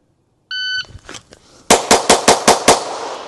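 A Glock 34 pistol with palm swells and a stippled grip fires on a range after a shot-timer beep: faint early reports are followed by six sharp, loud shots in quick, even succession, ringing out close by.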